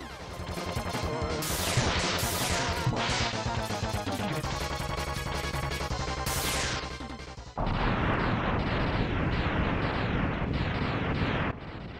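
Rapid blaster shots and explosive hits from a boss fight in Mega Man X on the SNES, a dense, continuous barrage of chiptune impacts over game music, loud throughout with a brief dip near the end.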